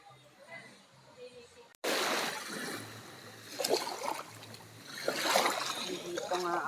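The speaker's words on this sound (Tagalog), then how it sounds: "Sarap ng tunog ng dagat." Sea waves wash and splash continuously at Calatagan, Batangas, after a brief quiet start, steady and fairly loud, with a person talking over the water.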